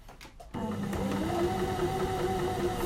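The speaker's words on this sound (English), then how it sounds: "we'll just do a few stitches in reverse" Sewing machine running a few reverse stitches while binding a neckline with bias tape: a soft click, then a steady close motor whir that holds for a couple of seconds.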